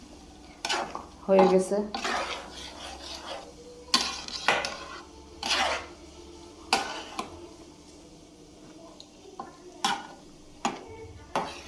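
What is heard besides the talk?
khichuri tempering sizzling and being stirred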